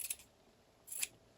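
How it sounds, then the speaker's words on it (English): Scissors snipping through fabric while trimming the edges of a fabric book, two short crisp cuts near the start and end with quiet pauses between, close and alone. "because the scissors didn't go quite straight"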